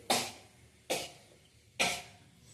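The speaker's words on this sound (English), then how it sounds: "So I have some cough" Three sharp coughs spaced evenly about a second apart, fairly close and moderately loud, with no talking.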